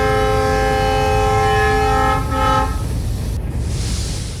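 The Kapotaksha Express diesel locomotive, No. 6602, sounds a long steady horn blast as it moves off, with a low engine rumble continuing underneath after the horn stops.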